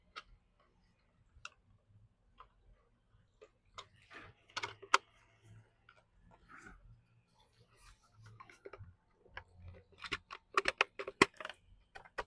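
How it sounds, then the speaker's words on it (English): Filter material clipped back into a submersible pond water pump, with scattered small plastic clicks and taps, quiet and irregular, growing busier toward the end. "And that's all clipped in now and clickety clack."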